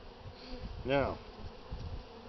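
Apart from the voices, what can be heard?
honey bees buzzing during spring hive inspection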